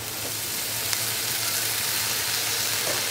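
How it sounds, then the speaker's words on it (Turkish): Eggplant slices frying in a small amount of oil in a pan give a steady, even sizzle with no break from start to end, close and unaccompanied. "Kızarttıkça sıvı yağ eklemesi yapacağım."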